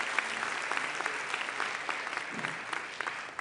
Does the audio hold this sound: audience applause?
yes